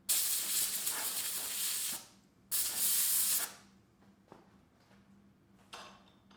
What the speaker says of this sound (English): the trick that I use, that I came up with accidentally, is blowing with the air compressor